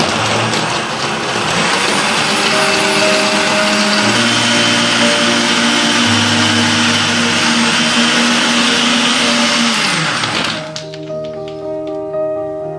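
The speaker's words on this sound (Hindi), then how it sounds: "अब इसको अच्छी तरह से ब्लेंड कर लेंगे" An electric blender whirs loudly while blending strawberries, ice cream, milk and sugar into a milkshake, the motor running steadily for about ten seconds before cutting off and winding down.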